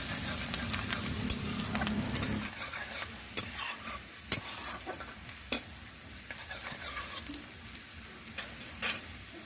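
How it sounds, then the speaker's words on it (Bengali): Chopped onions, two medium ones, sizzle steadily in a pan while being stirred, with a constant frying hiss and occasional sharp clicks and scrapes of the utensil against the pan. "আমি 2 মিনিট মতো নাড়াচাড়া করে নেব পেঁয়াজগুলো"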